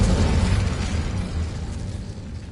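An Incendio fire spell from Hogwarts Legacy erupts in a dense, roaring whoosh of flame that stays loud and close, then slowly thins over a couple of seconds.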